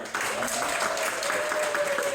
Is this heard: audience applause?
yes